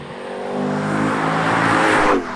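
A Lexus LC 500 V8 at full throttle, engine note rising steadily as it accelerates hard, loud and close, with a brief tonal sweep near the end.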